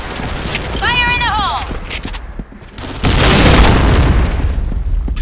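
During a paintball game a grenade goes off with a loud sudden boom followed by sustained noisy burst, after players shout warnings and a whistle-like rising tone sounds nearby.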